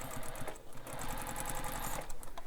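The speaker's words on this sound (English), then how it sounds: "And just start stitching." A sewing machine stitches a messenger bag through thick layers near the D-rings, giving a close, continuous rapid mechanical chatter with brief slowdowns and no talk.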